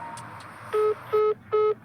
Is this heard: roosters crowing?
no